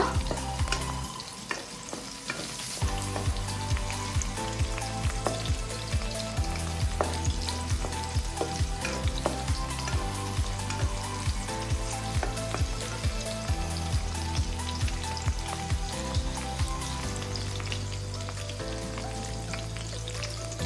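Mutton with spices sizzles loudly in a pan for Karnataka-style spicy mutton pepper dry, a continuous close frying crackle with periodic stirring scrapes and clinks throughout, no talk.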